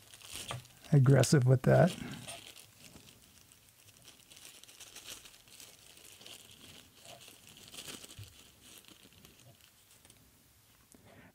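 Someone opens a taped-shut plastic packaging bag for a small lens, making a loud, close burst of crinkling and tearing, followed by softer rustling while someone talks.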